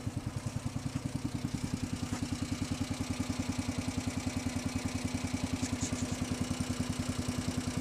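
A John Deere 5103 tractor engine runs steadily nearby with a fast, even, chugging pulse that holds for the whole stretch, with no talk.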